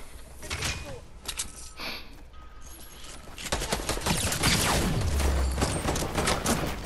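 Rapid bursts of pistol gunfire crackle in the video game Fortnite, with clustered shots, mechanical clicks and a steady noisy backdrop of game effects.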